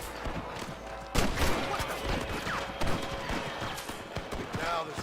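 Gunfire at rustlers in Red Dead Redemption, sharp shots cracking amid galloping hooves and shouting voices, with one loud report standing out near the start and others scattered under the commotion.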